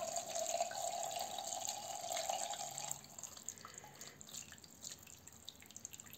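Cold tap water runs over pasta being drained in a kitchen sink, a steady splashing stream that cuts off partway, leaving soft drips and trickles.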